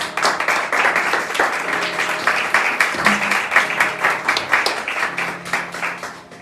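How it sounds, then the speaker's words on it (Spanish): A church congregation claps together in praise, producing moderately loud applause with a distinct rhythmic pulse that thins out toward the end, with some voices faintly underneath. "Denle un fuerte aplauso al Señor"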